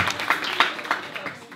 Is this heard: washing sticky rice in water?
no